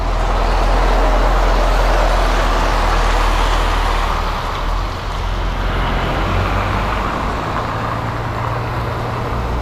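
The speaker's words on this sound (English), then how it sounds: "See what this lorry does." A large lorry rumbles close by on a site road in Scotland with a heavy low engine drone, the noise swelling and shifting as it moves past amid road noise.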